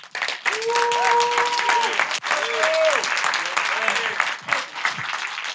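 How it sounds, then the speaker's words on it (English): A large audience at a summit applauds warmly for a speaker being introduced, steady dense clapping with some whoops and voices over it, fairly loud and continuous. "please give a huge round of applause"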